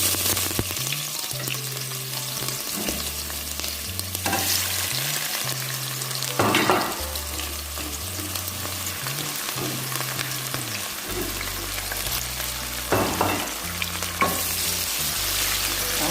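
Chopped onions and garlic frying in a pan for a paprika pasta sauce, a steady close sizzle with occasional stirring under background music.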